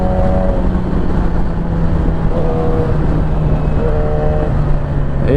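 A 2017 Yamaha R6 sport motorcycle rides onto a highway, its engine a loud steady drone mixed with heavy wind rush, with brief rises in pitch as it accelerates.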